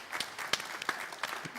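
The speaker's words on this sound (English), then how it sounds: "Let's give him a round of applause." Brief burst of applause from a conference audience welcoming a panel guest at a nuclear industry event, a few close claps standing out over a thin, scattered patter that lasts under two seconds.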